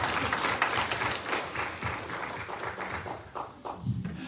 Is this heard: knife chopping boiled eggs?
no